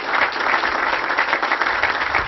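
Steady, dense applause from an audience at a green jobs announcement in Genesee County, a continuous wash of many hands clapping without a break, fairly loud and close.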